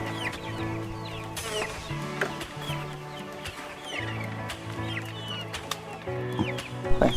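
Laying hens cluck and squawk in a free-range coop, a busy close chorus of overlapping calls with sharper cries rising near the end.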